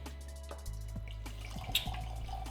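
Johnnie Walker Green Label blended malt Scotch whisky poured into a glass, a short liquid glug and trickle with a few drips, close and fairly quiet.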